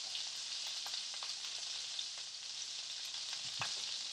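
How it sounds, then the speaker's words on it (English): Two tablespoons of butter melting in a hot pan, a soft continuous sizzle with faint crackles, close and quiet with no talking. "I'm going to go ahead and add 2 tablespoons of butter."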